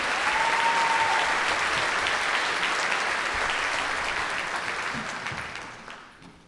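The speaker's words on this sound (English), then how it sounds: "Give them another round of applause for those trumpet solos in the middle." Sustained applause from a crowd at a school winter concert, steady and dense clapping that gradually fades toward the end.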